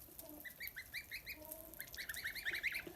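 High, repeated peeping from newborn goslings, a busy chorus of short chirps growing livelier toward the end, fairly close with no talking.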